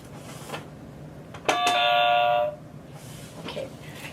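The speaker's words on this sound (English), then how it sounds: "We heard this ping pong noise, which is like our buzzers." A single electronic buzzer chime in a school in Japan rings out for about a second, a bright sustained tone with harmonics, between stretches of quiet room noise.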